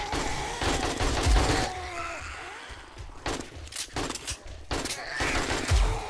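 Gunfire in the zombie game 7 Days To Die during horde night: repeated bursts of rapid automatic shots in several clusters, close and loud, with brief pauses between volleys.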